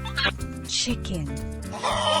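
A chicken clucks in a few short bursts, close and fairly loud, with rising and falling voiced calls that could be a voice imitating the bird.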